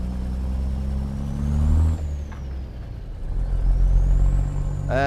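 Steady low engine drone inside a truck cab in American Truck Simulator with Z-Mods interior sounds, a brief hiss near the start and a rising whine, continuous and fairly loud with no talk.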